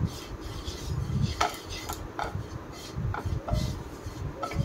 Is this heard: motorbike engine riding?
no